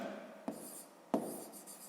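Pen or marker writing a number during a maths exercise, two short taps followed by soft, close scratching strokes.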